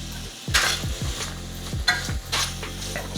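Carrots and celery sizzling as they cook down in an Instant Pot, with a steady fry under repeated scraping stirs of a utensil against the pot, close and moderately loud.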